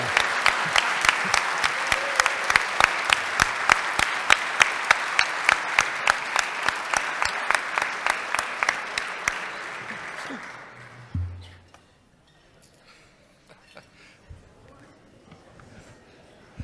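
An audience applauds guests at a meeting, starting as a dense wash of clapping and turning into loud, rhythmic unison claps that fade out around eleven seconds, leaving quiet room tone.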